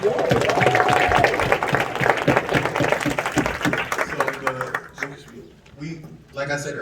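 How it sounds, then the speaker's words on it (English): An audience at a Philadelphia crime and violence prevention summit applauds, a busy spread of clapping under overlapping talk that thins out and fades toward the end. "Let's give this gentleman a round of applause."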